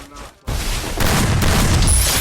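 Video game gunfire erupts after a brief quiet moment into a dense, loud, continuous barrage of shots and booms that lasts to the end.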